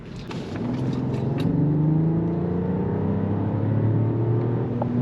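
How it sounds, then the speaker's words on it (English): A 2023 Mercedes-Benz S580e W223 S-Class accelerates with electric motor assist, giving a steady, rising engine and motor drone heard from inside the cabin, loud and continuous with no talk. "And the electric motor kicked in, I saw it, and gave me more power so I can pull faster."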